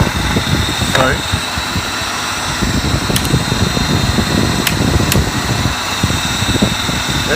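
A modified 3 hp AC electric motor runs idle with no load, giving a steady loud hum and whir, with a few brief clicks and talk over it.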